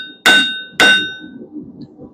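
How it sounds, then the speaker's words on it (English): A blacksmith's hammer strikes steel held at the edge of an anvil, two loud ringing blows about half a second apart, each leaving a bright metallic ring that fades into low background rumble. "you want your steel right there on the edge so your hammer can make full contact"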